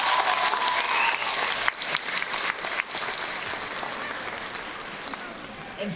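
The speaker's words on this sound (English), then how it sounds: "Graduates, please give your families a round of applause they so rightly deserve." Graduation audience at Lincoln High School's Class of 2025 ceremony applauds families with steady, dense clapping from a large crowd, sustained and fairly loud across the whole moment.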